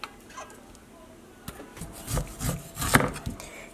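A knife slices kernels off a cooked ear of corn on a wooden board, giving scattered scraping and tapping cuts that start sparse and quiet, then grow quicker and louder toward the end.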